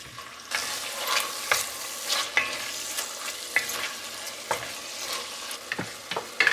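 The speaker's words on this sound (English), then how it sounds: "once that oil is heated up a bit, we are going to just brown the rabbit" Pieces of rabbit brown in hot oil inside a Dutch oven, a steady close sizzle broken by sharp crackles and scraping stirs every second or so.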